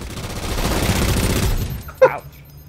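A turret fires in Halo 4 multiplayer on the Settler map, a dense rapid stream of loud automatic shots lasting over a second, then cutting off before a single sharp impact and quiet.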